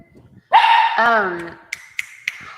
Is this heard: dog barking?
yes